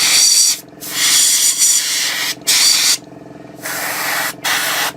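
An airbrush lays mist coats of paint on a Takom 1/35 British Chieftain Mk 10 model tank, making close, loud hissing bursts broken by short pauses as the trigger is released and pressed again.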